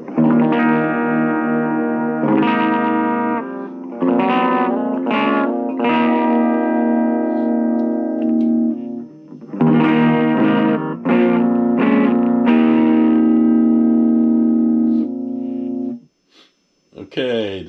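A Les Paul-style electric guitar played through a Laney amp with a clean tone rings out in sustained chords and notes with long decays and brief pauses, loud and alone.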